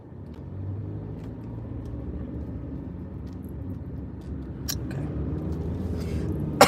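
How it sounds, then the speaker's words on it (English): A car engine hums steadily at low speed while driving behind a mail truck, a smooth even rumble from inside the cabin with a brief sharper sound near the end. "I'm behind the mail truck."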